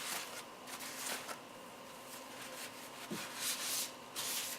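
Greasy surface scrubbed after a spray of Simple Green degreaser, giving steady close rubbing and brushing strokes in uneven bursts, fairly quiet and with no talking.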